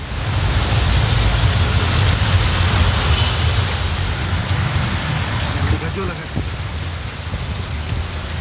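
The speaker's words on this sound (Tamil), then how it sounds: "கனமழை காரணமாக பல்வேறு பகுதிகளில் சாலைகளில் மழைநீர் பாய்ந்தோடியது." Heavy summer rain pours down in Tamil Nadu amid a thunderstorm, with rainwater running across the roads: a loud, constant broadband wash with a deep rumble beneath, steady throughout.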